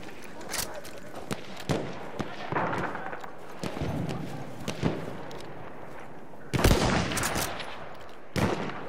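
Machine gun fire in Battlefield 1, sharp repeated shots cracking in irregular bursts at a moderate distance, with one heavier close burst late on and occasional voices.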